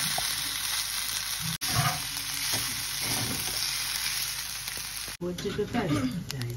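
Pasta and potatoes fry in a pan at breakfast with a loud, continuous sizzle, broken by scraping stirs and clatters of the spoon, close and steady throughout.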